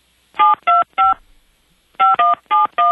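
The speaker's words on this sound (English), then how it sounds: "Okay, dial that line." Touch-tone telephone keypad dialing: three DTMF beeps, a short pause, then four more, loud and close with no voices.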